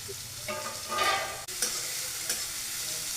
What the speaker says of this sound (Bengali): পেঁয়াজ কুচি আর কাঁচা লঙ্কাটা একটু ভালো করে ভেজে নেব।